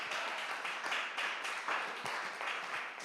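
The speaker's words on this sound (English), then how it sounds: "The crowd are going wild in the room." A church audience applauds in a room, steady, even clapping from many hands, moderately loud and sustained throughout without pause.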